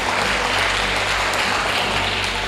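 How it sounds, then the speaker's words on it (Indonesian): Audience applause at a college talk show and try-out event for civil service and military academy entrance tests, a continuous dense clapping roar from a large crowd, loud and steady throughout. "tepuk tangan dulu."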